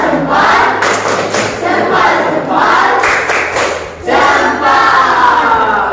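Classroom group doing the "tepuk jempol" thumb clapping chant, loud rhythmic group voices and claps in a crowded room, rising and falling in bursts.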